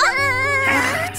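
A cartoon child character in a Korean animated series for kids cries, giving a short, loud, wavering wail of about a second that trails into a whimper.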